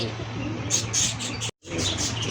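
A satin pigeon coos low with a few faint chirps nearby over a steady background hum, briefly cut off by a short silence.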